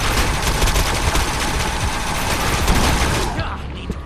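Gunfire in the shooter game Defiance, with a continuous loud barrage of rapid automatic shots and overlapping blasts that fade out abruptly near the end, with voices faintly mixed in.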